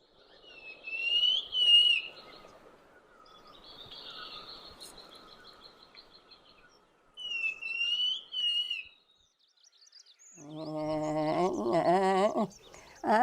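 A tiny endemic bird in an Indian community forest gives thin, high chirping calls in separate bursts, set against faint background hum, before a louder, richer run of calls at the end.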